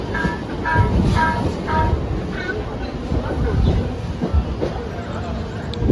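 A local train rumbles steadily nearby with heavy low clatter, while voices talk intermittently over the noise.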